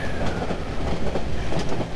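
A train runs in the horror video game Cry of Fear, a close, loud rumbling rattle with rhythmic wheel clatter and faint squeals, heard alone.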